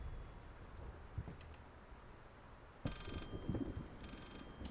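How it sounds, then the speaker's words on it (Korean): Inside the horror video game Layers of Fear, a telephone starts ringing nearby with bright, repeating electronic rings that cut in partway through over a quiet, low ambient background. "근데 근처에서 전화 소리가 나는 거 보니까 뭔가 이상한데?"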